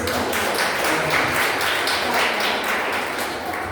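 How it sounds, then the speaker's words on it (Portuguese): A church congregation applauds together during a worship service, a dense, steady wash of clapping that holds loud for several seconds with no voices on top. "Uma salva de palmas para Jesus."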